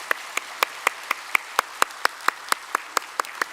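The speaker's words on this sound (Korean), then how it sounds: "우리 박수로 환영하도록 하겠습니다." Church congregation clapping in unison to welcome new families at a Sunday service, a steady rhythmic beat of sharp claps, evenly spaced and moderately loud over a soft background wash.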